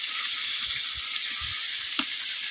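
Chopped tomato drops into a sizzling pan of black eggplant and fish for a Bengali fish-and-eggplant chorchori, giving a steady close frying hiss with a few soft stirring knocks and one brief sharper clatter.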